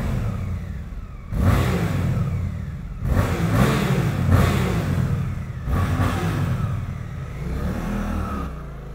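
A Suzuki GSX-8S motorcycle revs hard inside a road tunnel, with repeated rising surges of low, rumbly engine noise echoing off the walls and the steady rush of riding between them.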